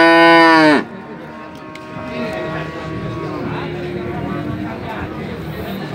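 A super-jumbo Limousin breed cow moos loudly and close at a busy cattle market in Ponorogo, East Java, one strong call ending abruptly, followed by a low, drawn-out moo under a continuous crowd murmur.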